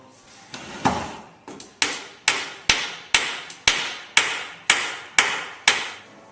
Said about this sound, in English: now Dave is going to drive in a dowel to secure that joint